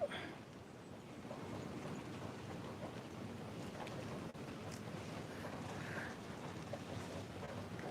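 Steady, dense rain hissing outdoors, a continuous wash of noise with a faint rumble underneath and no voices.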